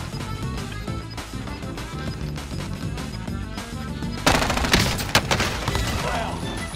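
Video game gunfire, rapid bursts of shots layered over busy game sound, growing louder and sharper in the last couple of seconds.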